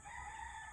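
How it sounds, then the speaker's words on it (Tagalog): A rooster crows at a distance in a rural yard, one faint, steady, drawn-out call under low background noise. "Nangangakak na ulit yung manok."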